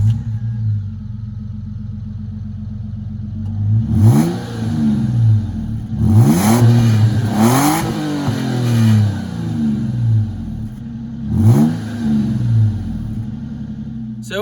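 A 2002 Nissan Pathfinder engine, rated at about 245 horsepower, idles with a low steady rumble, then revs up sharply several times, each rev climbing and falling back. The revs come close and loud with brief gaps between them.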